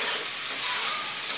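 Boiled, drained taro stolons being stir-fried with spices in a pan for a Bengali prawn dish, a steady close sizzle with two brief scraping stirs, no talking.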